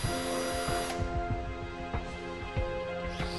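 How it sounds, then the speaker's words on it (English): A power drill boring 5 mm holes into a cracked plastic car bumper, a steady high-pitched motor whine with periodic low grinding bursts as the bit bites, close and continuous without talk. "holes measuring 5 mm in diameter are first of all drilled at each end of the crack"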